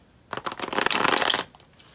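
Tarot cards are shuffled close up in one steady riffling burst lasting about a second, preceded and followed by quiet.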